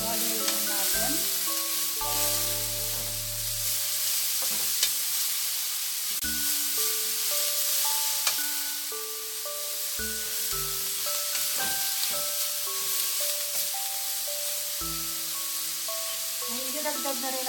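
Kangkong (water spinach) sizzles steadily in a pan as it is stir-fried for adobo, with a constant frying hiss under soft background music and occasional stirring clatter.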